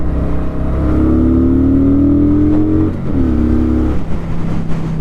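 A new motorcycle, not a sports bike, accelerating on its first ride: a steady, loud engine drone rising in pitch through one gear, a brief dip at a shift near the third second, then pulling again, with wind buffeting throughout.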